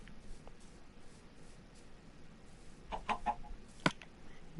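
Minecraft chickens clucking faintly in short bursts, followed by a sharp game sound over steady low background noise, with no one speaking.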